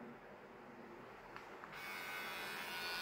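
A Xiaomi Mi beard trimmer switches on about halfway through, and its steady electric buzz then runs close and unbroken to the end, following two faint clicks.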